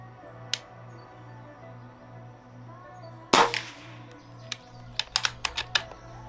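An air gun fires a single sharp, loud crack at a target mid-clip, followed by a quick run of lighter mechanical clicks and snaps, all over a low steady hum.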